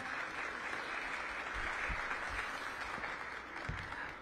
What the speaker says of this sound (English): Let's give the cadet a big round of applause.